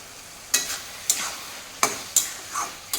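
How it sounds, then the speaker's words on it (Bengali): Cabbage and fish head curry being stirred in a pan without water, with several distinct spoon scrapes spaced about half a second apart over a soft, continuous sizzle. "আর মিনিট 2 নাড়াচাড়া করলেই শুকনো হয়ে যাবে।"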